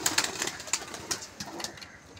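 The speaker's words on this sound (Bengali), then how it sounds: "সব পায়রা এক এক করে বার হচ্ছে" Pigeons spill out of a loft one after another, soft cooing mixed with quick bursts of wing flapping, close and fairly faint.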